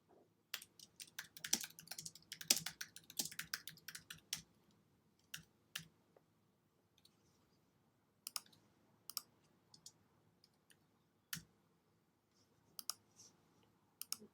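Sharp computer mouse clicks, close and fairly quiet, come singly and in short quick clusters during the first few seconds, then spread out into sparse isolated clicks over a soft room hush with no voices.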